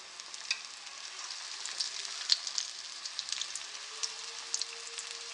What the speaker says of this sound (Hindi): ऑयल अब हमारा गर्म हो चुका है, तो अब मैं इसमें पकौड़े डालती हूँ।